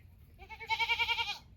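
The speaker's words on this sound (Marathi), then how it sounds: "ती बकरी" A goat with a broken horn gives one close, loud, wavering bleat lasting about a second, with a quick vibrato, heard alone against faint outdoor background.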